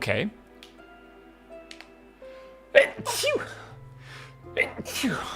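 A person sneezes once, sharply and close, in the middle of casual talk. Soft electronic tones from a Minecraft modpack game play quietly in the background.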